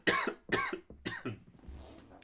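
Several close, loud coughs in quick succession from one person, tapering off into a quieter throat-clearing rasp at the end, with no talking.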